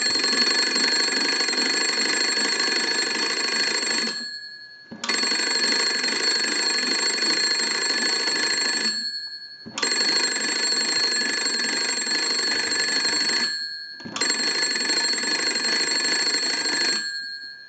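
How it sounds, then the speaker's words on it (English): A Kellogg wooden wall crank telephone rings its bell in four long bursts of about four seconds each, separated by short silences, loud and close with a bright metallic jangle. "we want to use the crank, and we're going to ring the telephone"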